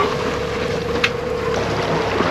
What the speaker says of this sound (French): obligé de mettre le moteur.